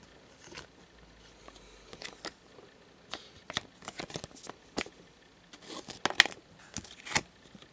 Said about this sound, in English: so I'll just sleeve them up.